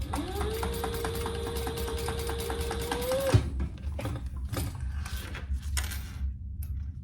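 A sewing machine stitches a fabric wristlet in a fast, steady run of needle strokes over a rising motor whine for about three seconds, then halts with a clunk and a few scattered mechanical clicks.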